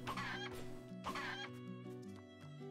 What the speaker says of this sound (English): It's the freaking chicken